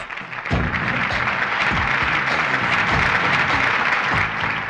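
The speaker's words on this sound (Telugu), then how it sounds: "క్లాప్" Sustained applause from a crowd, dense and steady clapping that swells quickly and holds at full volume throughout, with no talking.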